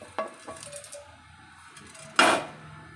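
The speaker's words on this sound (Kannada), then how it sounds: "ಈ ರುಬ್ಬಿರೋ ಮಸಾಲ ಮಿಕ್ಸಿಗೆ ಹಾಕ್ಕೊತೀನಿ" Ground masala is scraped from a container into a mixer jar in a home kitchen, with a few sharp metallic clinks and clatters of steel dishes, one louder knock near the end.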